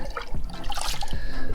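A 2-to-1 sugar-water syrup is poured into a bee feeder, a close, gurgling trickle of liquid with small splashes and drips.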